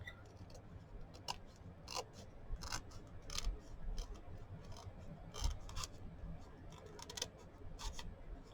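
Scissors trim the cover of a handmade journal, a string of crisp, close snips at an uneven rhythm over a quiet room, with a faint murmur of background sound.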